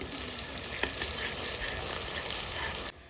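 Sliced onions fry in hot oil for beresta, the crispy topping for mutton biryani, a dense, steady sizzle with one brief clink, ending abruptly.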